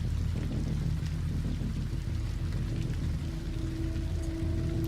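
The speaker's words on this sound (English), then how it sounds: "The softest pitter-patter of rain" Soft rain patters steadily on a surface with no break, layered over a low, constant rumbling drone. No voices are heard.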